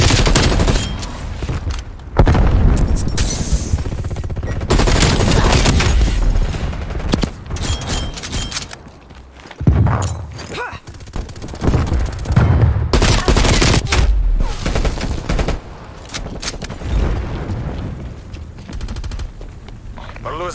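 Dense video game battle from Call of Duty Black Ops Cold War multiplayer, with rapid automatic gunfire, bursts and grenade blasts filling the scene almost continuously, loud and close, with brief quieter gaps.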